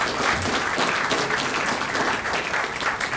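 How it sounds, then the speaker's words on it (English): An audience at a mayors' question-and-answer event claps steadily for about three seconds, a dense even patter of many hands with no voices on top. "how about another round of applause for these guys?"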